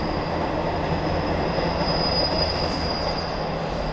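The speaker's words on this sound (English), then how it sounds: "You may hear a train coming by." A train runs through a valley on the line near Bath, its steady rumble and rolling wheel noise filling the air continuously, loud and close, with a faint high squeal over the top.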